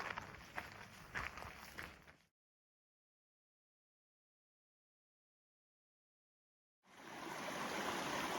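A small brook runs beside a campsite on the Appalachian/Long Trail in Vermont, a steady broadband rush of flowing water that is near and continuous. Footstep-like thumps mix in at the start, and a silent gap breaks the middle.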